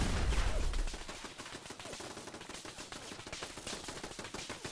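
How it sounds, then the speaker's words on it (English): An automated turret fires in Fallout 4 in a museum trap setting, a rapid steady rattle of shots that holds fairly constant and moderately loud after an opening low thump. "That's a turret."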